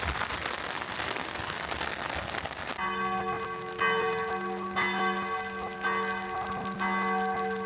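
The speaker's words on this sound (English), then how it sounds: "it is absolutely chucking it down" Heavy rain pours down in the city of Split, Croatia, a steady wash of noise throughout, joined partway through by ringing church bells that strike several times over the downpour.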